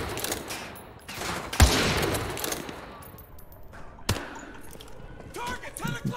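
Gunfire from the video game Call of Duty: Modern Warfare 2, with several sharp shots and bursts cracking out over a noisy battle backdrop, the loudest near the start and middle.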